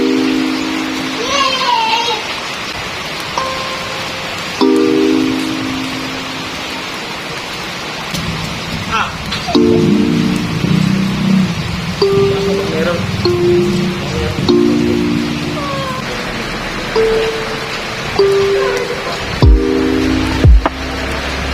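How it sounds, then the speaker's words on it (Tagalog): Rain falls steadily in the background while people talk and call out over it, with occasional sharper bumps and knocks. "Umulan na."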